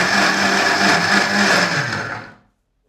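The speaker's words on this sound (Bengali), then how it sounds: "এক নাগারে আপনার ব্লেন্ডারটা 10 সেকেন্ড থেকে 15 সেকেন্ডের বেশি চালানো যাবে না" A kitchen blender whirs loudly at close range for about two seconds, its motor pitch dipping slightly under load before it cuts off and spins down into silence.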